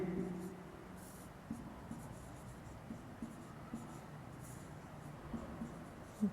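A teacher writes on a board during a Sanskrit grammar lesson, with soft, steady scratching and a few light taps under ongoing speech.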